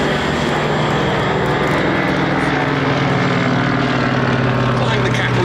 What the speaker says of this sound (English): Flying the Catalina for us today, in the captain's seat Phil Pettit